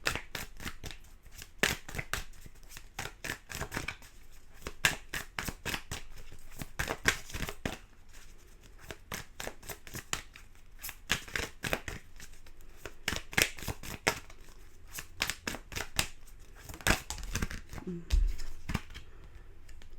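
Tarot animal cards are shuffled and drawn in a rapid run of crisp, riffling card slaps and flicks, close and fairly quiet, with brief soft handling noises near the end.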